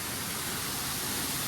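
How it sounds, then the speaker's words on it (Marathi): A waterfall with a temple behind it near Patan, a dense, steady roar of falling water that fills the whole short stretch with no pauses. "हा धबधबा आहे"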